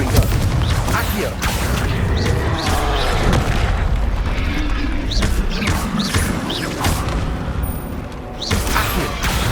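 Hogwarts Legacy combat with Confringo and Bombarda spells, loud booming blasts and crashes rolling continuously over dense battle noise, with repeated bursts throughout and a voice calling out between them.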